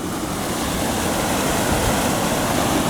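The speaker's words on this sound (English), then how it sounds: "Basically, it's just a big waterfall, and then it goes down into those holes." Floodwater pours like a waterfall down into drain holes during 2015 flooding in Portland, Oregon, a steady, loud, close rushing roar that holds unbroken throughout.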